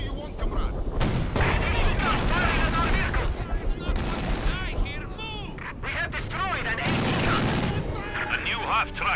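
An artillery barrage in the Company of Heroes 2 game brings loud booms and rolling gunfire in heavy bursts, with soldiers' voices shouting between and over the explosions.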